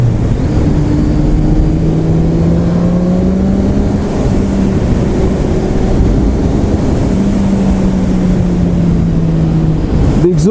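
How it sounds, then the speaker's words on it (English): A 2015 Triumph Street Triple motorcycle with stock exhaust pulls hard through the gears, its loud, close engine note rising and dipping in steady sweeps under constant wind rush. "The exhaust sounds gorgeous."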